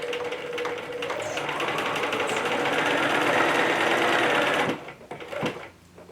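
A sewing machine stitches fabric for a lanyard, run slowly over a thick extra bunch of material. Its close, loud, steady whirring hum lasts about four and a half seconds, then stops, leaving a few faint handling sounds.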